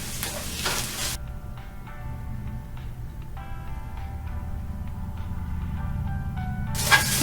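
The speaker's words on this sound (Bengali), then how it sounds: "এখন আমি দিয়ে দিব গাজর কুচি।" Chopped carrots stir-frying in a pan for chow mein give a steady sizzle with a clattering burst at the start and again near the end, while a faint tonal hum runs underneath.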